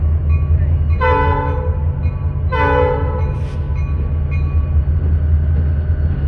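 A train rolls past with a steady low rumble while its horn sounds in two distinct blasts, a short gap between them, followed by fainter tonal hints and continued rail noise.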